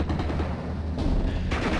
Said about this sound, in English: In a small skirmish fight here between rifles, Bren group, and another rifles.